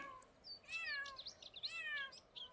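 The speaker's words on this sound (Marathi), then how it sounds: "हा इकडे तिचं पिल्लू ओरडते" A small kitten meows several times in thin, high, rising cries against a quiet background hiss.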